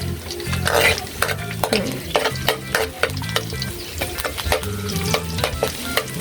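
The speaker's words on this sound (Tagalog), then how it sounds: "Nilagyan na po ng bawang. Ayan, imikos-mikos po" Garlic sautéing in a home kitchen pan, a steady sizzle with repeated sharp scrapes and clinks of a utensil stirring, close and fairly loud, no talking.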